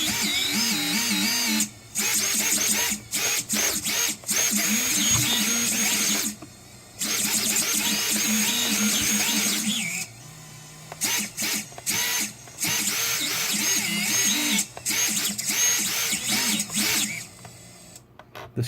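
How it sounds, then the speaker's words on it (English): Eachine Wizard X220 quadcopter motors whine and buzz loudly in bursts during a motor test, with brief drops to near silence between runs, a busy high-pitched mechanical drone. "This quad sounds super responsive."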